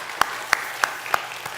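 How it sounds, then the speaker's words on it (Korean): A church congregation claps in a brief burst of about six sharp, evenly spaced claps in a steady rhythm, fairly clear and near, with no talk over them. "우리 박수 한번 주시죠."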